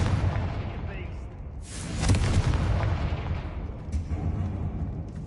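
A Confringo blasting spell explodes in the Hogwarts Legacy video game, a booming burst swelling around the middle over a rumbling battle background, with a second smaller burst later.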